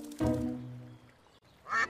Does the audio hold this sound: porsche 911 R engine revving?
no